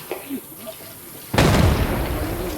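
A loud in-game explosion in the shooter Arena Breakout Infinite bursts in suddenly partway through and leaves a long rumbling roar, following some quieter speech.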